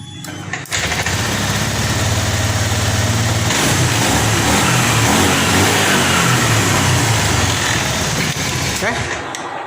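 A Honda Scoopy scooter with a dirty injector starts up and revs, its engine note climbing and falling in uneven bursts, loud and close, with a short cut near the start and a tail-off at the end.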